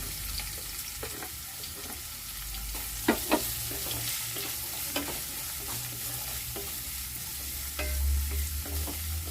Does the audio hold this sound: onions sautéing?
yes